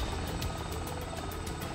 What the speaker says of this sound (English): Helicopter basket hoists in hurricane winds.